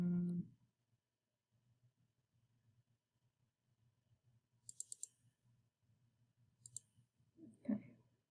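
A computer mouse clicks quietly while someone works through a large lab data file. Small clusters of soft clicks sit over a faint low hum, with a brief rustle near the end and no talk.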